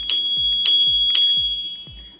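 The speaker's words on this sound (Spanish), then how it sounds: "Tenemos el timbre." A Xiaomi electric scooter's bell rings three times in a steady rhythm, each a bright metallic ding that decays quickly, sounding close and clear with no talking.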